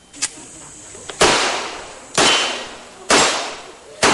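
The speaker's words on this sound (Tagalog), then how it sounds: "Nagpakitang gila si Aljur sa paghawak ng baril at pag-asinta sa mga target" Three sharp, loud gunshots at a firing range about a second apart, each cracking sharply then fading, with a faint pop or two before them.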